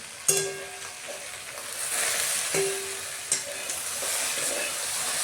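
Okra (bhindi) frying in a pan, a soft steady sizzle with a few sharp clinks and scrapes as it is stirred, fairly quiet and heard without speech.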